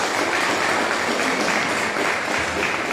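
A church congregation at an evangelical service applauds steadily, a dense even wash of many hands clapping at close range, with a few voices faintly mixed in.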